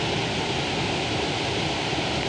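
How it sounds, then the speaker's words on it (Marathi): Napane waterfall in the Konkan, a steady, dense roar of rushing water that stays close and constant throughout, with no voices over it. "मेन हा तो धबधबो नापण्याचो"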